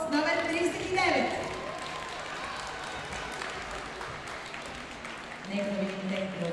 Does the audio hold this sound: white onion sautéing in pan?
no